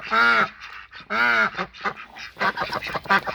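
Farm ducks or geese give loud, close honking quacks, two long harsh calls followed by a quicker run of shorter nasal quacks.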